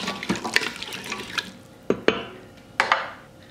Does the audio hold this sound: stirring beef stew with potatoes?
yes